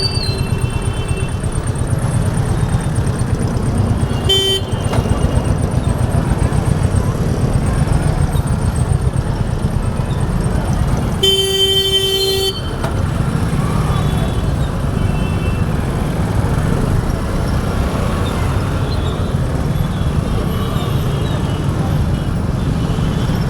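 Night road traffic at Vandarpur junction in Bhiwandi, a dense steady roar of cars, motorcycles and buses, broken by a short horn blast and a longer loud honk.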